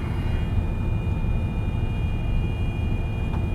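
A loaded semi truck weighing 102,000 lb with an automatic transmission runs in eighth gear at about 1500 RPM down a snowy 6% grade, giving a steady, loud low engine drone with a faint whine and no pauses.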